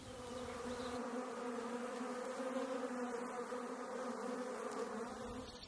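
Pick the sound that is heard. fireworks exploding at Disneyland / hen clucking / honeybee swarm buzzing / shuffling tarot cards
honeybee swarm buzzing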